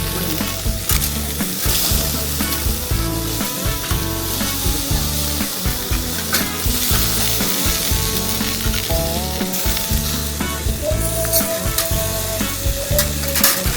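Pork ribs grilling over homemade wood charcoal, giving a steady, close sizzling and crackling with light scraping and handling noises throughout, no voices.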